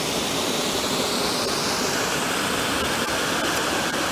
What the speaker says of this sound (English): So now here we are at waterfall number three.